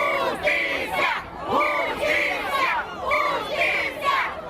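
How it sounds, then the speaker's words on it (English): A large crowd of protesters chants and shouts in unison, rhythmic rising calls repeating every second or so, loud and close, with voices layered densely together. "This looks like a happy crowd."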